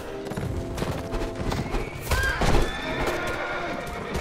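Horse neighs and hoofbeats in a Mount & Blade: Warband battle, a whinny rising mid-clip over busy combat noise and clopping, fairly loud and close throughout.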